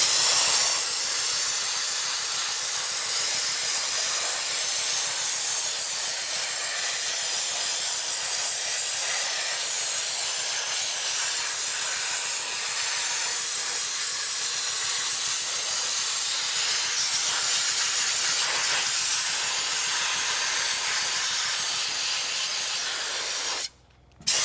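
Dry ice blasting cleans M2CS motorcycle brakes with a loud, steady high-pressure hiss that runs without a break, then cuts off abruptly near the end.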